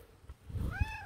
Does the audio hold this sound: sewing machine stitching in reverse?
no